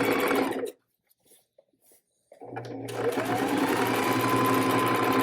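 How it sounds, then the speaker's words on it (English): Sewing machine stitching a seam around a fabric drawstring bag, running steadily and close, then stopping for a second or so with a few faint handling clicks before the motor whirs back up and keeps sewing. "Sew all the way around one more time."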